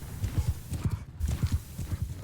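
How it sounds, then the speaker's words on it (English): Horses galloping in the video game Mount & Blade II: Bannerlord, a steady rapid clip-clop of many hooves with a brief whinny, moderately loud and continuous. "those horses are moving much faster than we are"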